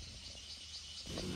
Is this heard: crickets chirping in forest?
yes